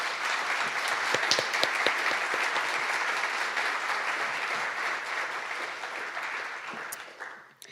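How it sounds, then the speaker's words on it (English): An audience at a legal panel event gives the panelists a round of applause, a full, even roar of clapping that holds steady for several seconds before tapering off at the end. "Please give all of our panelists a round of applause."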